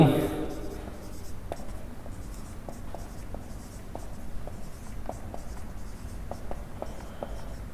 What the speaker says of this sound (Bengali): তা আমরা এটাকে লিখতে পারি